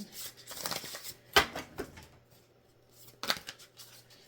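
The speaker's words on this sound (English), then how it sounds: "I've already shuffled them, but I will shuffle them one more time" A deck of playing cards shuffled during a tarot-style reading, giving soft riffling flutters with two sharper snaps of cards, close and fairly quiet, with no talking.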